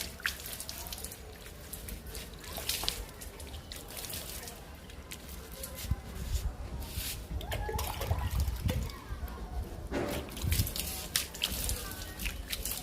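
Quiet, intermittent bursts of water sprayed over indoor houseplant leaves, with soft drips and splatters, close by and uneven in rhythm.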